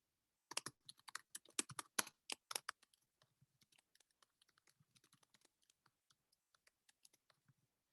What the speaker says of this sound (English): So I'm going to type that in.